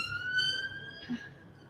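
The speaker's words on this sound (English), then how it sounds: "Another siren." A faint siren wails far off in a London street, one steady rising tone with harmonics holding for about a second over low background rumble.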